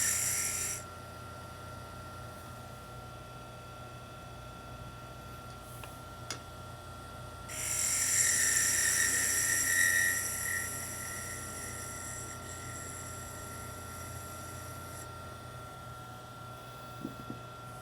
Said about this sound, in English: Then use a spindle detail gouge to round the end over.